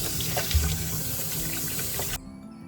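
Water runs steadily from a kitchen tap during rinsing on a homestead, a continuous splashing hiss into a sink that cuts off abruptly near the end, leaving near silence.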